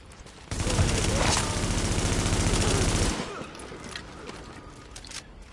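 Automatic gunfire in The Division rattles out as one long rapid burst for about two and a half seconds, loud and dense, followed by quieter game ambience and faint scattered noises.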